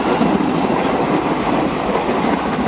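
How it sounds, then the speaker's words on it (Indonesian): A KRL Commuter Line electric train runs fast over the Cimonyong bridge between Cicayur and Parung Panjang, a steady loud roar of wheels and rails with faint clatter throughout, no voices. "KRL melaju kencang, KRL yang lewat sini kencang-kencang teman."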